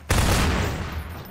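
A single close, loud gunshot from Half-Life 2 cracks out and its blast rolls away over about a second.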